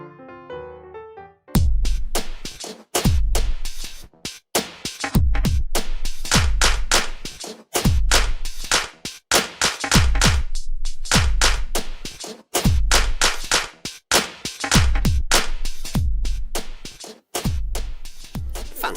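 A rhythm grid is played as a loud, steady percussive pattern of sharp repeated hits with brief pauses between phrases, after a short soft melodic intro.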